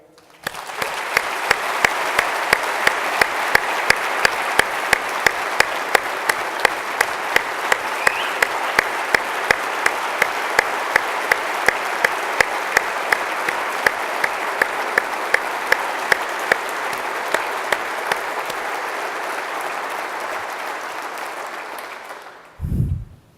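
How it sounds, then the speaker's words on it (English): A large audience at an Air Mobility Command closing address honoring a veteran colonel claps in a long, steady ovation lasting over twenty seconds, even and sustained before cutting off abruptly. "let's another round of applause for our great hero"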